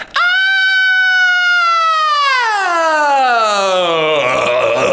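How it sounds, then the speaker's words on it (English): A sustained, piercing metal-style sung note starts high and clean in head voice, then slides downward through the passaggio and roughens into a gritty, distorted scream, loud and close. "Now I want to show you some about that scream."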